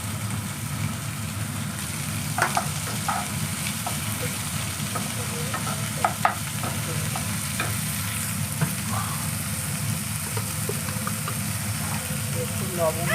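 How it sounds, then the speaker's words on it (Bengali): Capsicum and carrot fry with salt in a pan for veg momo filling, a steady loud sizzle running throughout while a spatula stirs with occasional sharp scrapes and taps. "নুন দিয়ে নাড়াচাড়া করে এবার একটু ঢেকে রাখলাম"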